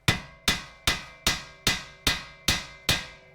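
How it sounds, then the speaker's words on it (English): Eight evenly spaced metallic hammer taps strike the steel steering knuckle of a 2005-2009 Subaru Outback at a steady rhythm, each ringing briefly before the next. Close and fairly quiet, with no talking. "We'll tap on the knuckle with a hammer and that vibration should pop it loose."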